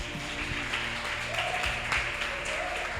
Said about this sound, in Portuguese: Você pode aplaudir o Senhor?